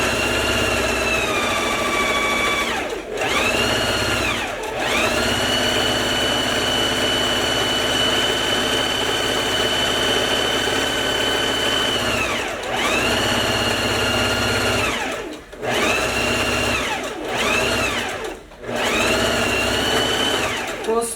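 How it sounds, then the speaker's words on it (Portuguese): A sewing machine stitches around the collar of a lined coat, whirring in long steady runs at a constant hum, broken by several brief stops and restarts, close and loud with no talking. "então, simplesmente agora eu vou costurar a minha gola"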